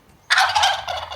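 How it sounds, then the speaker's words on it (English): A turkey lets out a loud, close gobble, a rapid rattling burst lasting about a second, with no talking over it. "You're a big turkey, aren't you?"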